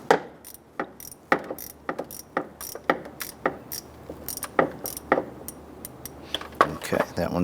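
Ratchet snugging down tin nuts onto the plastic emblem studs of a 2011-2019 Ford Explorer, a close series of sharp, rapid pawl clicks in short bursts with brief pauses between strokes.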